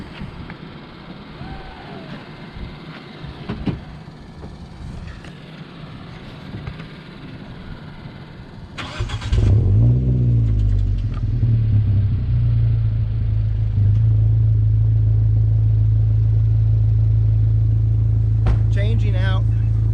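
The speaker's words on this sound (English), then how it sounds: "let me turn on the car and we'll talk about the auto combi insulated exhaust" A car engine fitted with an insulated axle-back exhaust cranks and catches about halfway through, then settles into a loud, deep exhaust rumble that holds steady; someone talks before it starts.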